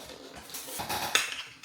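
Lid of a cheap £10 camping cookset pot being handled, a brief metallic clatter and clink of thin pot metal rising to one sharp knock near the end.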